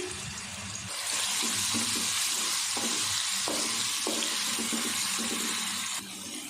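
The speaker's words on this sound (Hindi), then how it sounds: "एक मिनट अदरक और लहसुन को हमने फ्राई कर लिया।" Ginger and garlic fry in hot ghee with a loud, steady sizzle that holds for several seconds, with faint stirring taps underneath.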